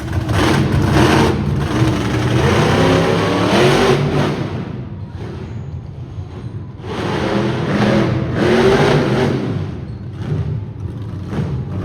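A monster truck engine roars and revs in two long surges with a dip between, heavy and close, over a noisy crowd-like background at a monster truck show in Saskatoon.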